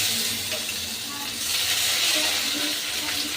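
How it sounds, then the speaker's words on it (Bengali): Panch phoron whole spices with bay leaf and crushed ginger frying in hot oil for village-style Bengali dal, a soft steady sizzle and hiss at close range, fairly quiet, with faint stirring. "এবার ফোড়নটাকে আমি খুব ভালো করে ভেজে নিচ্ছি"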